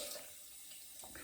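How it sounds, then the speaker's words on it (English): Water running from a tap into a sink during a wet shave, a close, steady splashing rush with brief louder bursts, heard without talk. "I'm actually going to put even more water in because I think that's fun"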